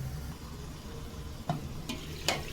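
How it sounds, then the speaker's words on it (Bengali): Chicken being stirred and fried down with turmeric in a pan, a low steady sizzle with a few sharp scraping strokes of a spoon toward the end, close and fairly quiet. "আর একটু কষানো হোক।"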